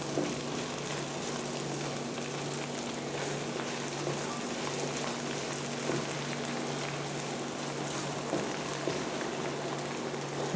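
Onion and garlic frying in a pan, giving a steady, dense sizzling crackle that holds at an even level, with a faint low hum in the background.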